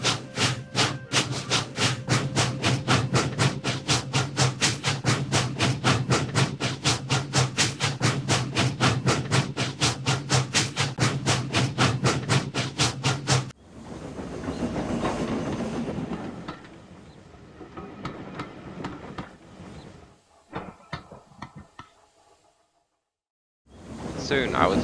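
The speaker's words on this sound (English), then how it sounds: "Soon I was puffing through the countryside, down the Kirk-Ronan branch line." A steam locomotive on a branch line rolls along with a fast, steady rhythmic chuffing and clatter, then the sound turns rougher and fades into scattered rumbling and clanks.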